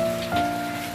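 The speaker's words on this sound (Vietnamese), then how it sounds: "mưa từ sáng giờ luôn không dứt nha bạn đó" Steady rain falls outdoors at a guppy fish farm, a dense continuous patter that stays even and moderately loud, with a faint steady hum beneath it.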